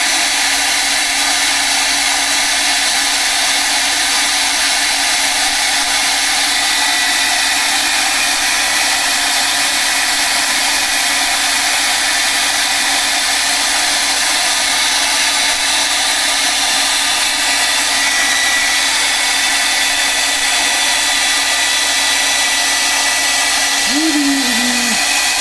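Loud, steady whoosh of a hair dryer drying an art journal page, continuous and close for the whole stretch, with a brief voice near the end.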